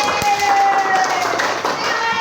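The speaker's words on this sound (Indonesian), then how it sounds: "kita beri tepuk tangan dulu" Classroom applause for a student group, a dense wash of many small hands clapping with children's voices mixed in, lively and close throughout.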